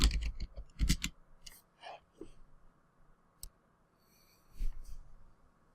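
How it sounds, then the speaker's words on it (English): A few scattered keystroke clicks on a computer keyboard while a letter is typed, close and fairly faint, arriving in short irregular bursts with quiet gaps between them. "I have completed typing the information on the letter, the body of the letter"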